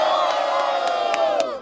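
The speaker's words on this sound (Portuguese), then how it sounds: "Quem acha que deu Japa faz barulho." Crowd at a Brazilian rap battle (Batalha do N9V) cheering and shouting loudly and continuously, with sharp whoops and cries bursting out above the steady roar.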